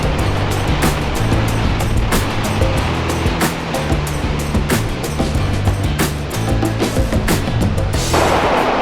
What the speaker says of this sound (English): That was a very impressive waterfall